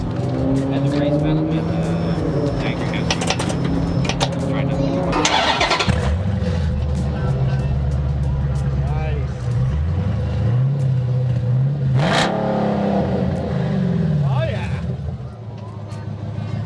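A big classic Mopar muscle car engine cranks over and rumbles, then revs repeatedly with rising and falling roars, loud and close, with voices talking faintly underneath.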